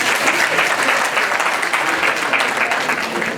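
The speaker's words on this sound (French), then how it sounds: "Je vous demande d'applaudir pour nous." A crowd at a tribute ceremony in Paris claps loudly and continuously, a thick, steady roar of hands from start to finish.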